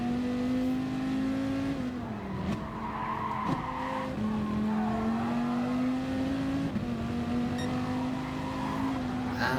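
Dodge Viper Gr.3 race cars scream around Spa-Francorchamps in Gran Turismo, a loud engine whine rising and dipping through gear changes, with bursts of tire squeal and skidding over the racing.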